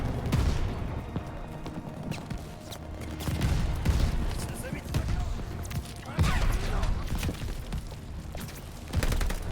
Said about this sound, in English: Some guy got back on the machine gun when he shouldn't have.